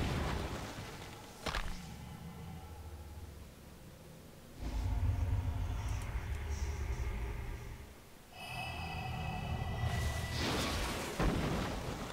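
Iron Cannon pet ability firing in a World of Warcraft pet battle: a few low booming blasts with rumbling tails, moderately loud and spread across the clip, with game sound effects between them.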